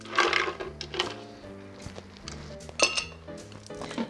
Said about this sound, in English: And we're gonna start by putting some ice in.